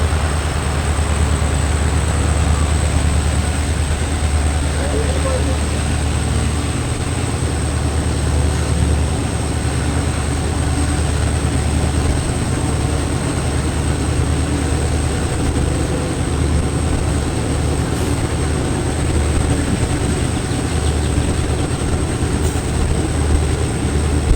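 A passenger train runs between Vallappuzha station and Shoranur, a continuous loud rumble of wheels and carriage noise heard from inside, steady throughout with a faint high whine above it and no talking.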